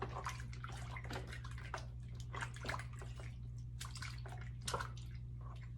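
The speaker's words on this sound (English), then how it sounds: "use some of that water, get a lot of that sand off" Water splashes and sloshes in a pedicure foot bath as sand is washed off a foot, with soft irregular swishes and drips over a low steady hum.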